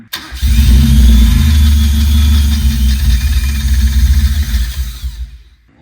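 A car's newly installed engine cranks briefly, then catches and starts, running loud and rough close by with a fluctuating idle and small revs before it cuts off.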